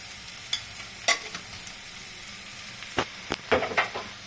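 A spoon stirs pointed gourd curry in a pan: soft scraping under a quiet sizzle, with a few sharp clinks and scrapes that come in bursts.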